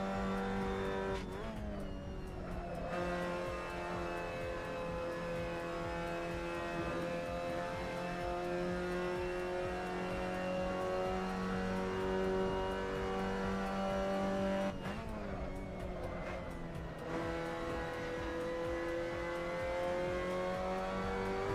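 A Mazda MX-5 racing around Mount Panorama in a driving game, its engine holding a steady high whine through long stretches, with two sharp gear changes that briefly drop and rebuild the pitch, close and continuous.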